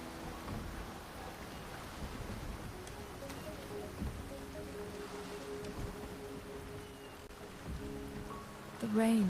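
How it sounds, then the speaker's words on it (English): Rain falls in Wuthering Waves as a soft, steady patter and hiss, faint and continuous, with a brief louder swell right at the end. "The rain is subsiding, and the sky will soon clear."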